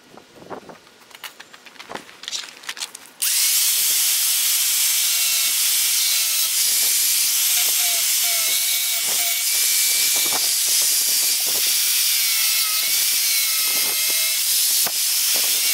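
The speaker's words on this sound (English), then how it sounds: "I'm going to cut this off with a cutoff wheel on both sides of the flare." A cutoff wheel slices through a Dodge Ram fender flare being fitted to a Dodge Dakota, a loud, steady abrasive screech and hiss that starts abruptly after a few seconds of light clatter and runs continuously to the end.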